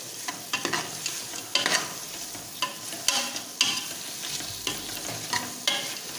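Onions frying for vegetable biryani, with a steady sizzle broken by repeated rhythmic scrapes of a spoon stirring through the pan, close and fairly quiet, no talking.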